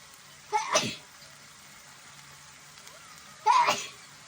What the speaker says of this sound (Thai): โอ้จามแล้วค่ะแสดงว่าอร่อย